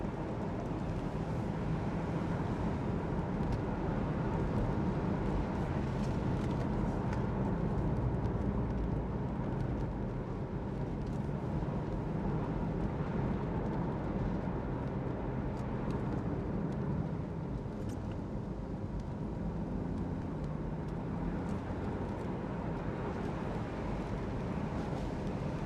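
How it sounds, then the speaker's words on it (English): A 2013 Porsche Boxster 981 S with a 3.4-litre engine and PDK gearbox accelerates gently, a steady engine rumble with road and wind noise holding throughout, heard from inside the car and free of talk. "I can just put my foot down on it, just a tad, just so you can hear the engine noise"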